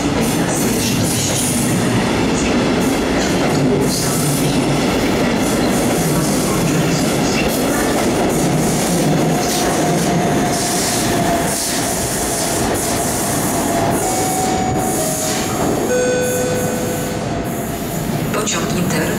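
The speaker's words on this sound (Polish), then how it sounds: "Pociąg Inter Regios do Warszawa lotnisko Chopina odjedzie z toru 6 przy peronie 4." A train moves through Warszawa Centralna station in Poland, with steady loud rumble, wheel clatter and high squealing tones rising late, while a public-address announcement plays over the noise.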